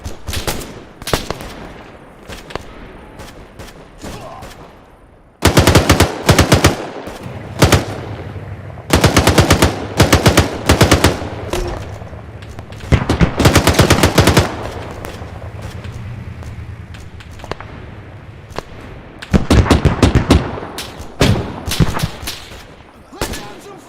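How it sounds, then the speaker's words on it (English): Suppressing machine gun fire in the military game ArmA 3: long, loud automatic bursts and rattling volleys, separated by quieter stretches with distant shots and faint voices. "Lay down some fire. Suppressing fire. Open fire."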